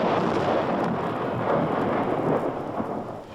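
A tree being cut clean in half, a staged sound effect heard as a dense, rumbling crash that fades slowly over a few seconds.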